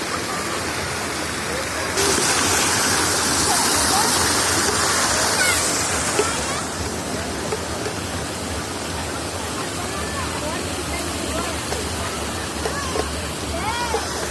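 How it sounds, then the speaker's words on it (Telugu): Garden waterfalls in an NTR park give a steady broad rush of falling water. It surges louder for a few seconds early on, then settles, with people talking faintly in the background. "ఇవన్నీ వాటర్ ఫాల్స్."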